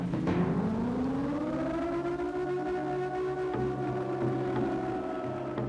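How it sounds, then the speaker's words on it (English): A wailing siren from the PS2 horror game Siren rises into a long, sustained eerie tone that holds steady and loud throughout, with no voices. "I worked hard to make sounds that express fear, especially the sound of the siren"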